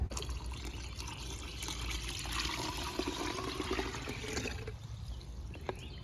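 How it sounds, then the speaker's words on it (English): Water pours steadily into a bucket, a continuous splashing rush that fades toward the end, with a few drips. "we're gonna add some more water to this tea, brew up another batch"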